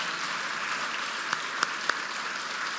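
An audience at a charity fundraising brunch applauds donors, a dense, steady wash of clapping from a large crowd with a few sharper claps standing out near the end.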